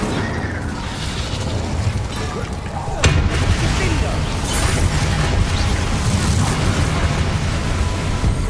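An Incendio fire spell blasts in the Hogwarts Legacy video game, a sudden burst at about three seconds followed by a dense, roaring rush of flame and effects over a busy, loud game soundscape, with voices calling out.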